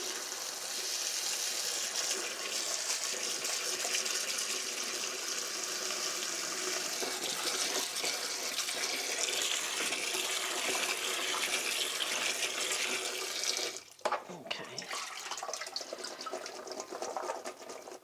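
Steady broadband rush of tap water running over food being rinsed in a kitchen, continuous for most of the stretch, with a brief break and clatter near the end before the flow resumes.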